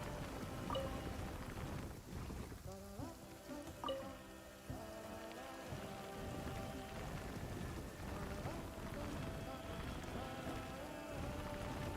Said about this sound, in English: Is it raining and sunny?